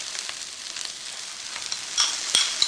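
Canned tomatoes go into browned onions in a pan for a spicy chicken curry, giving a steady close sizzle and frying hiss with a few sharper pops and stirring scrapes toward the end.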